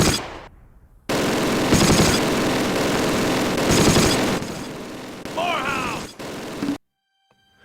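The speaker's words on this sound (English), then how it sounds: "We're just gonna load the building full of rounds." In the Close Combat battle for Mortain, 1944, dense machine-gun and rifle fire pours into a building, with sustained loud bursts, heavy impacts and a brief high whine before the fire cuts off abruptly.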